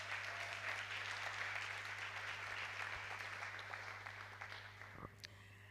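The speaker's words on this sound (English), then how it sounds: "Let's appreciate the Lord with a hand clap." A church congregation claps steadily in sustained applause during a service, gradually fading out, heard from a distance over a low hum.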